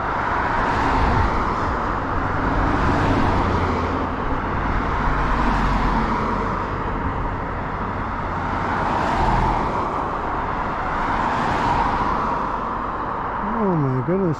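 Steady stream of cars passing on a road beside an Ariel Rider Grizzly electric bike during a highway ride, a continuous loud roar of traffic with swelling passes, mostly without talk.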